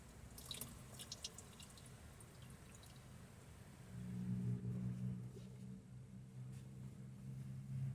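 Water trickles and drips from a camping shower bag with a low-hanging hose at a campsite, a faint, quiet patter over a low rumble that grows slightly fuller partway through.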